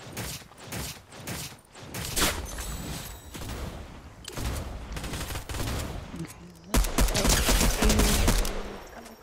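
Gunfire rattles in a Fortnite Zero Build squads match, with rapid automatic bursts and single shots, then a heavier loud volley near the end, as a player briefly exclaims over the shooting.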